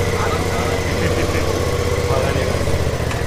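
A Suzuki V-Strom 650 adventure motorcycle with a 650 cc, 70 bhp engine idles at an outdoor event, giving a steady, loud, rumbling drone with voices faintly mixed into the background.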